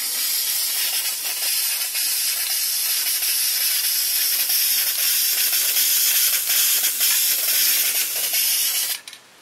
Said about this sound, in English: Just spray them down like this.